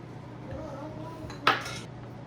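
Pieces of pasta salad ingredients dropped back into a bowl, giving one short, sharp clatter midway through, over quiet room hum with no speech.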